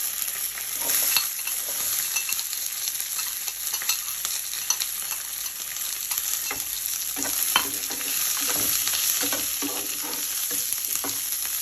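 Onions, green chilies and curry leaves fry in a pan for semiya upma, giving a continuous bright crackling sizzle close by, with occasional spatula scrapes and no voices.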